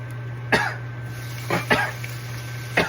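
Four short, sharp coughs spaced irregularly over a steady low hum, fairly close.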